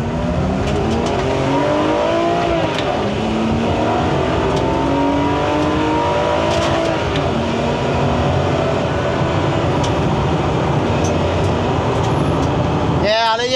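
A BMW E90 driven on a race track, its engine droning loudly and steadily and rising in pitch as it revs up through the gears, with constant road and wind roar inside the cabin.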